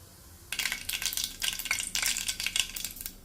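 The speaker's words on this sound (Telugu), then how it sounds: "ఇప్పుడు ప్యాన్లో పెట్టి ప్యాన్లో కొద్దిగా ఆయిల్ వేసుకొని ఆయిల్ హీట్ అయిన తర్వాత కొద్దిగా ఆవాలు, కొద్దిగా జీలకర్ర" Mustard seeds and cumin hitting hot oil in a pan, a sudden crackling sizzle that starts after a quiet moment and keeps spitting and popping in close, irregular bursts.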